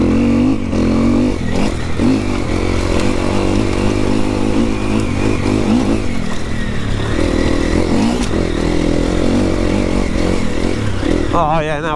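A 4-stroke enduro motorcycle engine of about 450 cc runs loud and close for the whole stretch, with shifting revs and rough, dense mechanical noise that barely lets up.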